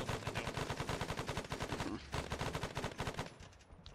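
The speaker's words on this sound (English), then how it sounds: "Something's firing at us from up the hill." Rapid machine-gun fire from up a hill in a military combat video game, fast evenly spaced bursts rattling almost continuously, briefly pausing once before resuming and trailing off, moderately distant with no talking.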